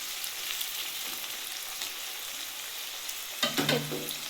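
Kakrol bharta sizzles steadily in a frying pan, a continuous hissing fry, followed near the end by a few brief clattering scrapes of stirring.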